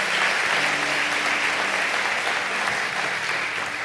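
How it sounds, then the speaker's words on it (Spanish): A church congregation claps loudly and continuously in a steady, dense burst of applause, with a faint voice briefly audible beneath the noise. "Aplauda fuerte al Señor."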